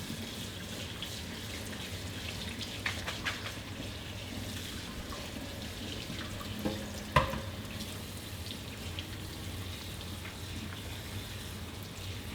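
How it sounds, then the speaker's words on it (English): Cold tap water runs over freshly cooked lasagna noodles in a kitchen sink, a steady soft rushing with light splashes and a sharp clatter near the middle. "Cold water real quick. Stop the cooking process."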